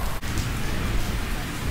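Steady, loud rain pouring down outside a pagoda on a wet day, forming a dense, continuous wash of hiss with no pauses and no voices over it.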